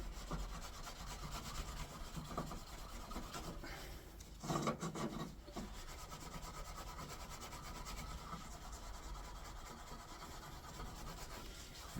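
Rusty century-old Lee Enfield rifle butt plate, dug up from the Somme, being buffed with wire wool: a soft, continuous rasping rub with one brief louder scrubbing burst near the middle, close but faint.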